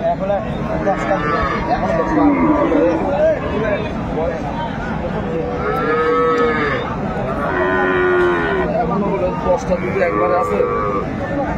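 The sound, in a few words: cow and calf mooing at cattle market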